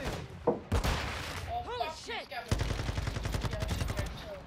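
Gunfire in Call of Duty: Modern Warfare II, with a few sharp shots early, then a rapid automatic burst running steadily to the end, loud and close amid game noise.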